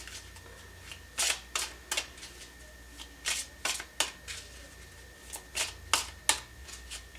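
Tarot cards being shuffled by hand in bursts of crisp riffling snaps, about a dozen short, close flutters spaced irregularly over a faint steady hum, with no voices.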